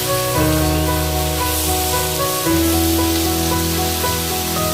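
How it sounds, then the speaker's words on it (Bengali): Marinated chicken sizzles loudly in a hot pan with garam masala, a steady bright frying hiss running throughout with a sharper burst near the middle as more pieces go in, close and unbroken with no talk. "তার উপরে আমরা আস্তে আস্তে ম্যারিনেটেড চিকেনটা"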